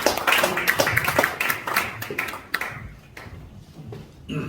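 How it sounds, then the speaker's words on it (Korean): A church audience claps steadily for a few seconds, welcoming a preacher, dense patter thinning out toward the end, with a brief resurgence at the close. "우리 큰 박수로 환영해 주시기를 바랍니다."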